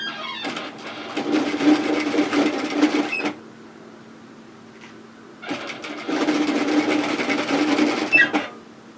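A sewing machine stitches flounce notches on fabric in two close, rapid bursts of mechanical whirring, each a few seconds long, separated by a quiet pause.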